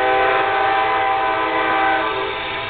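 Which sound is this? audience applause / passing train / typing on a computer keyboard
passing train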